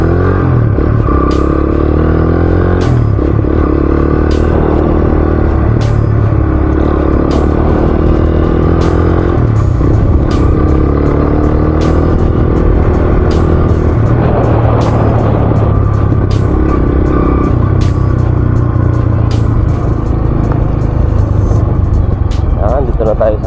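A motorcycle rides along a city road in Naga City, its engine droning steadily and loud with wind rush and occasional clatter, while a rider talks throughout.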